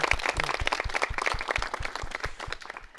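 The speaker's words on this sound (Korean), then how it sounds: "여러분 박수 부탁드립니다." A studio audience at a radio broadcast gives a steady round of applause, dense overlapping claps forming a sustained wash at moderate loudness, with no talking over it.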